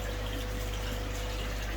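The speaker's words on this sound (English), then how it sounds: "You can hear water running here, obviously." Water running steadily through a homemade moving bed filter beside a large storage tank, a constant close gushing flow with a low pump-like hum underneath and no talking.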